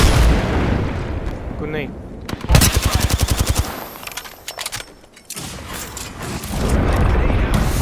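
Video-game combat with an enemy squad opening fire: loud machine-gun bursts rattle in rapid rhythm, mixed with heavy blasts and mechanical clatter, while a voice speaks briefly amid the shooting.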